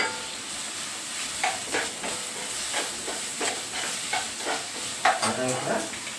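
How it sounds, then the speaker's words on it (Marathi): Onions sizzle steadily as they fry in a pan for a sprouted matki bhaji, with repeated scraping stirs rising over the constant hiss, close and moderately loud. "कांदा फिरवून घेऊया"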